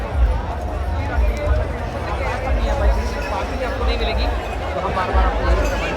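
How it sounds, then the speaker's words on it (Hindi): A vast morning crowd of pilgrims packs Har Ki Pauri ghat in Haridwar during the Kanwar gathering, producing a dense, steady babble of voices and bustle close by that never lets up. "अभी आपको भीड़ का अंदाज़ा मैं दिखाता हूँ, भीड़ का अंदाज़ा हो जाएगा कि सुबह कितनी भीड़ है।"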